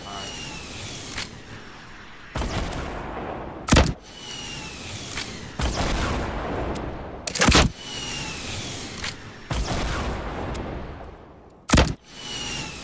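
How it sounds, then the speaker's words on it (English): Gunfire aimed at trees in Fortnite: repeated bursts of shots arrive in blocks a few seconds apart, with sharper, louder cracks standing out at intervals, all close and loud. "I'm gonna shoot the trees."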